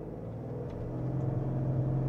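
A Ford Explorer ST held on the brake while its engine is revved, a fairly quiet, steady low engine drone that builds gradually in loudness with a faint whir above it.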